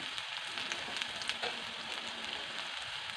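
Dried chili frying in hot oil during tempering for sambar, a steady close sizzle with faint crackles and no talking.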